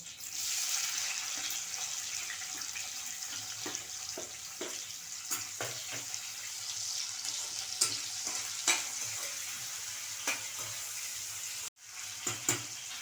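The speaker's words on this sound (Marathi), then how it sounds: "कांदा चांगला फ्राय होऊन द्यायचा आपल्याला" Chopped onion and chili frying in hot oil with spices give a steady close sizzle, with occasional clinks and scrapes of stirring and no talk.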